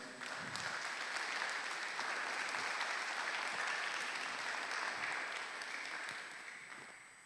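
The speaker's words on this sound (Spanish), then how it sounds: "¿Por qué no le das un aplauso al Señor?" A church congregation applauding in a steady, dense wash of clapping that holds for several seconds, then gradually fades toward the end.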